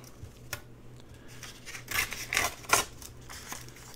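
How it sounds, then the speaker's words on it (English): Straw paper with gold flecks is torn by hand in a few quiet, close ripping bursts separated by soft rustles and small handling noises. "Let's see if we can tear this real quick."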